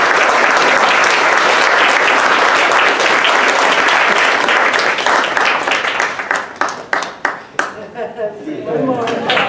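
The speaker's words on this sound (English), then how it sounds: "please stand so we can applaud." A large audience at a Gandhi Jayanti satsang applauds loudly and steadily, the clapping thinning into scattered individual claps near the end.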